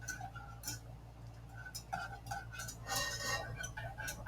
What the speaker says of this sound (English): we're whisking the pineapple juice and the cornstarch together